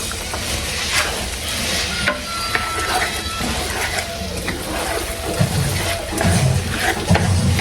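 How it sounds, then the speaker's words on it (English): Food frying in a pan, a loud, close crackling sizzle with stirring and scraping that swells and thickens toward the end. "I'm gonna fry this up"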